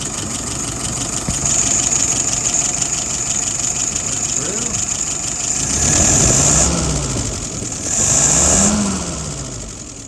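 A car engine idles after being started, a steady low rumble heard close up. Two gentle revs swell and fade, and a high whine runs over the idle throughout.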